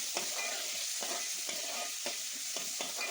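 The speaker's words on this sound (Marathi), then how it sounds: "लसूण शिजून झाल्यानंतर कट केलेला टोमॅटो ॲड केला आहे" Chopped tomato fries in a pan with garlic and chilli for a vada fish curry: a soft, steady sizzle with about half a dozen quick stirring scrapes in a loose rhythm, heard close and without voices.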